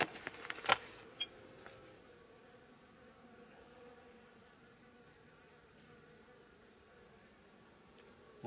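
Honeybees hum in a faint, steady drone around a hive after candy feeding, with a few sharp clicks and knocks near the start.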